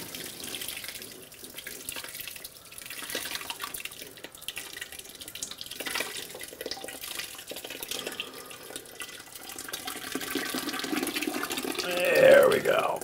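Liquid is poured steadily into a pot of turkey necks, splashing and running for several seconds and swelling louder near the end, with talk over part of it.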